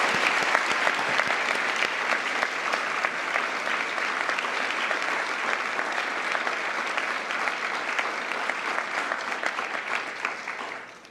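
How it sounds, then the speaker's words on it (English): Sustained audience applause at a ceremony, dense clapping from a crowd continuing steadily for about eleven seconds before tapering off at the end. "Please, another round of applause."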